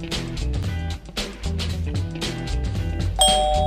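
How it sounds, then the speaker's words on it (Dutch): A doorbell rings clearly at a house door, a bright chiming tone at the end over a busy, loud background of music. "Duidelijke bel. Daar hou ik van."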